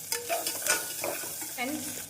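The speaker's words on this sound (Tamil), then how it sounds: "இந்த அளவு வெங்காயம் வதங்கவும்" Onions sizzle and crackle in a hot pan while being stirred, with soft scraping and bursts of frying noise, close up.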